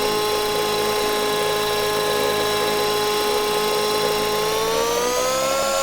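A simulated RC helicopter engine in a flight simulator game holds a steady, loud whine with layered harmonic tones that rise slightly in pitch near the end as throttle comes up, with no voices.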